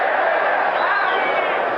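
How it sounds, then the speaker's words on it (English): Boxing crowd at a small-ring title fight between Carlos Monzon and Jean Claude Bouttier, a dense steady roar of yelling voices filling the hall, loud and continuous throughout. "Forget the yell of the crowd"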